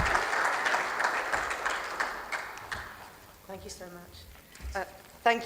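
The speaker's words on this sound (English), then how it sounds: "A round of applause for her," An audience at a regional conference on women, peace and security applauds a woman stepping up to give a welcome address. Broad, steady clapping fades after about three seconds, and her voice comes in over the last scattered claps.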